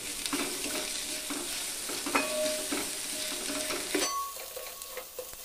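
Peanuts being stirred in a hot pan for a sabudana dish make a soft sizzle with scraping stirs and a few light clinks, steady and close, with no talk.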